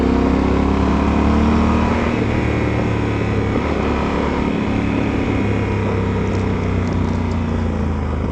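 Yamaha Super Tenere 1200 adventure motorcycle riding along the Bosphorus in Istanbul, a steady loud engine drone with continuous wind rush throughout, no talking.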